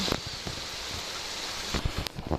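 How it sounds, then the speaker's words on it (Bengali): Steady rain falling outdoors, a continuous moderate hiss with a few louder drops and splashes near the end. "আবারও শুরু হয়ে গেছে বৃষ্টি"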